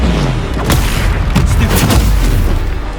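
Spells cast in combat in the Hogwarts Legacy video game: loud, rapid booming blasts and sharp impact cracks in quick succession, dense and continuous throughout.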